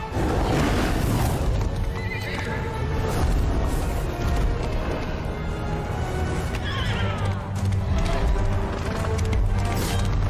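Horse neighing and hooves clip-clopping in a video game trailer, a loud whinny over a dense, busy mix of rumbling effects and music, no talk.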